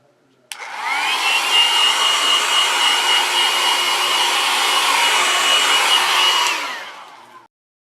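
A hair dryer blows over a wet watercolor painting of a tree, switching on abruptly into a steady, loud whirring rush that holds for about six seconds before cutting off.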